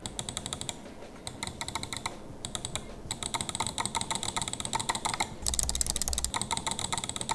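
Rapid, crisp clicks from a repaired Logitech G703 mouse button repeat in irregular bursts, close and fairly loud, with a brief pause midway and a denser flurry near the end.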